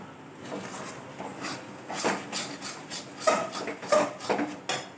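A spoon scraping steadily around a pan as chhana (cottage cheese) is stirred for sandesh, giving a continuous rasping, rubbing sound with brief metallic clinks, fairly close and alone.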